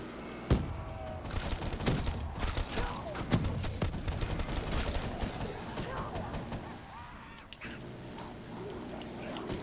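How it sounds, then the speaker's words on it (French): Gunfire from the Black Ops 3 Zombies Chronicles video game crackles in rapid, uneven bursts of sharp shots, with loud isolated blasts standing out from a continuous busy clatter of combat. "Vas-y, tire, tire, tire, tire tout, dégage, dégage tout"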